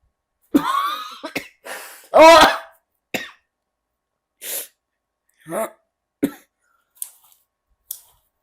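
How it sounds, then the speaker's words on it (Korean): A string of short, sharp coughs and splutters, some harsh and throaty, spaced irregularly with brief silences between them, close and fairly loud. "이게 숨이 막히니까 막 기침도 같이 나왔나 봐."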